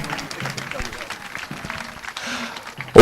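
Audience applause at a National Sanitation Day relaunch event in Ghana: a steady wash of clapping under a speaking voice, ending in a sudden loud burst right at the close.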